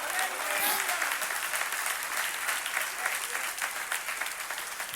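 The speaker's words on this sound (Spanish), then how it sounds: "dale ese aplauso a Dios" A church congregation applauds steadily and fairly loudly for the whole stretch, a dense wash of clapping that holds even without swelling or fading, with no talk over it.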